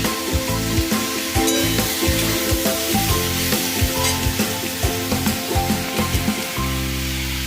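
Fried potatoes and slit green chillies sizzle steadily in a hot pan, with continuous near frying crackle broken by soft rhythmic stirring scrapes.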